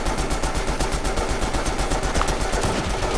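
Rapid, steady automatic gunfire in the Fortnite battle royale game, a continuous loud stream of closely spaced shots with no pauses, played over a dense, harsh background.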